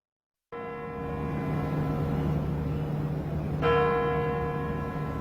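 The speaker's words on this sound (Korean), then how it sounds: "10시가 되자 크렘린궁의 종소리와 함께 경축 행사가 시작됐습니다." Kremlin bells chime at ten o'clock at the start of a Victory Day anniversary ceremony in Moscow, a sustained ringing bell tone with a fresh strike midway, fairly loud with no talk.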